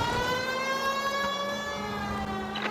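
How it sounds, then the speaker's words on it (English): A police car siren in L.A. Noire wails steadily and loudly, a sustained tonal wail close by and alone for the whole stretch. "Turn on the siren."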